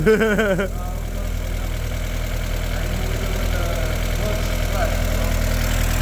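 A Golf 2 20VT engine idles steadily after repair, a continuous low rumble with a faint periodic knock running throughout, after a brief tonal sound at the start.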